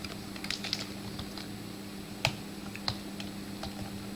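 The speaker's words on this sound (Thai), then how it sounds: "แล้วก็พิมพ์หาเอาง่ายที่สุด" Sparse keystrokes on a computer keyboard, entered to find a reclassify tool in ArcGIS software, sound as scattered light clicks over a steady low electrical hum, with one sharper tap partway through and no speech.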